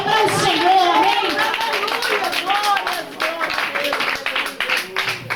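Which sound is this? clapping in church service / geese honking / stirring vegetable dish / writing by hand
clapping in church service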